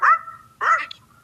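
A dog at a birthday celebration gives two sharp, close barks with a whiny, yipping edge, separated by a brief pause.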